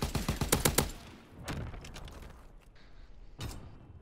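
Gunfire from the Call of Duty WWII video game: a rapid burst of automatic fire, then a few isolated sharp shots with mechanical clicks and rattles between them.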